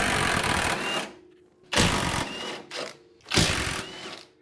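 A power ratchet or impact tool loosens 18 mm strut mount nuts on a Jeep Liberty, three close, loud buzzing mechanical bursts separated by short pauses.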